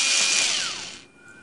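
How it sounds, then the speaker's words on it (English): A power screwdriver whirs briefly while unscrewing a nut inside an HP Pavilion dv7-6100 laptop, the high motor whine close and loud before cutting off abruptly near the end. "Unscrew this nut here."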